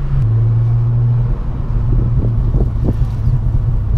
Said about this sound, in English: Yes, it's an automatic, by the way, but I like using sport mode and I like shifting gears